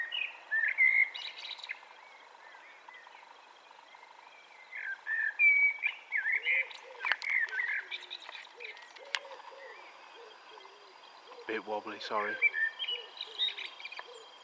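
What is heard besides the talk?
blackbird singing over an allotment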